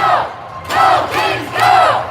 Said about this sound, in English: Crowd fired up.